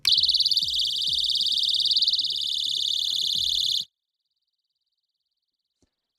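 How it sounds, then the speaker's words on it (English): Keychain personal alarm sounding: a piercing, ear-splitting high-pitched siren that warbles rapidly and continuously for nearly four seconds, then cuts off abruptly into silence with a faint click afterward. "I'm not testing this personal alarm on my cat, but let's take a quick little listen"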